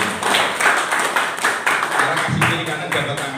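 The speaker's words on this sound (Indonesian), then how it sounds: "Tepuk tangan buat Tuhan." Church congregation clapping hands together in a rhythmic burst of applause, loud and close, with overlapping claps filling the room and a voice speaking partway through.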